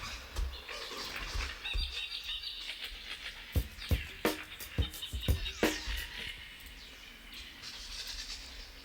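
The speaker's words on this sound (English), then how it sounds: "Am I getting distracted by the bird sounds?" Birds chirp and tweet in short, irregular bursts against quiet outdoor background, some calls sharper and nearer than others.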